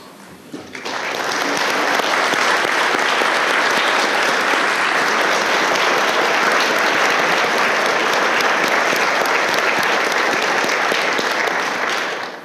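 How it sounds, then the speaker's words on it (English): Convention audience at the Florida Bar annual gathering applauding the Board of Governors, a sustained loud wash of clapping that starts abruptly and holds steady for over ten seconds before tapering off. "Will the members of the Board of Governors please stand and get another round of applause?"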